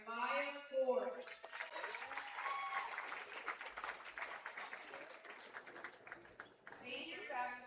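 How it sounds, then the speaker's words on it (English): A gym crowd at a high school senior night applauds a senior basketball player, steady dense clapping for several seconds with scattered cheers, bracketed by an announcer's amplified voice at the start and end. "Let's give a big round of applause for senior basketball player Maya Forbes."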